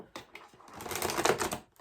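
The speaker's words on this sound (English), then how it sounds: "let's get one more shuffle here." Tarot cards are shuffled in a quick riffle that starts with a few sharp snaps and builds into a dense, fluttering burst lasting under two seconds.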